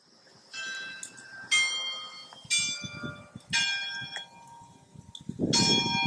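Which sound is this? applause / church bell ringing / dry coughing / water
church bell ringing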